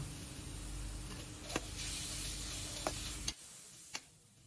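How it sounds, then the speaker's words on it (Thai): Pork stir-fried in a pan for stir-fried kale with pork, after chili and garlic are fried: a steady close sizzle with scraping stirs and a few sharp clicks. The sizzle stops abruptly near the end. "ใส่หมูลงไปค่ะ เราจะผัดไปเรื่อยๆนะคะ จนกว่าหมูของเราจะสุกค่ะ"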